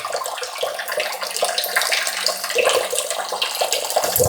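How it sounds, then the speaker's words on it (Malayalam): A small water pump sprays a steady stream of water, producing a continuous splashing and hissing rush that carries on alone without pause. "ഈ മോട്ടർ ഓണാക്കി കഴിഞ്ഞാൽ ഇതുപോലെ ഇങ്ങനെ വെള്ളം ചാടും"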